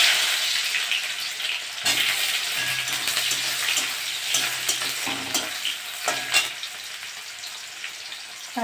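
Onions hit hot oil with dried red chilli and five-spice seeds in a pan, giving a steady bright sizzle with stirring scrapes and a few sharper pops, close and moderately loud.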